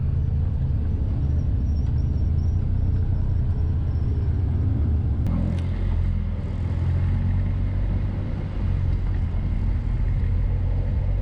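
Caterham Roadsport race car at Zandvoort, heard as a low, steady engine rumble from inside the car, continuous and fairly loud, with a brief sharp hiss midway.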